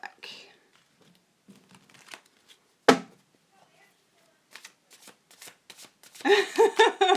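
Tarot cards are shuffled and handled up close in short crisp riffles and rustles scattered across the clip, with one sharp snap partway through, while someone talks over them at the end.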